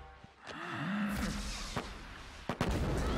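A psionic blast fired from a character's eyeball in the Avatar: The Last Airbender cartoon episode "The Beach", heard as a loud, sustained energy roar with a sharp boom-like burst and a couple of later hits.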